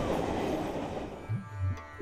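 A tram rolling along its tracks toward Carthage, Tunisia, with a rumbling ride giving way to a couple of short wheel squeals and clicks at moderate distance, no voices.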